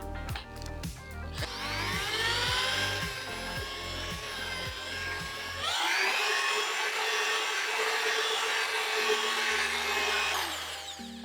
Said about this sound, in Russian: гораздо быстрее и проще это сделать при помощи насадки на перфоратор